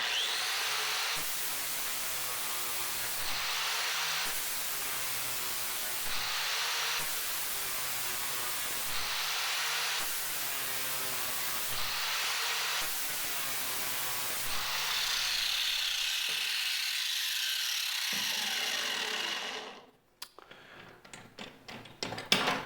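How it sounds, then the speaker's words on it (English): A 40 grit flap disc grinds an Oregon Gator mower blade from a Skag mower, a loud, steady abrasive whine in repeated long passes with short dips between them, ending abruptly in quieter clatter and handling noise. "I'm going to demonstrate this 40 grit flap disc on Oregon gator blade off a Skag mower"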